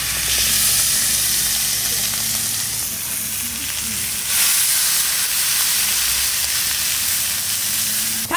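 Slices of beef hump (cupim) sizzle on a scorching-hot iron griddle, a loud, steady frying hiss that fills the whole stretch without a break.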